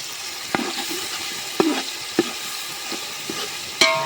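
Onion, green chili and garlic gravy frying in oil as it is stirred, giving a steady close sizzle broken by several sharp clinks and scrapes of the spoon against the pan.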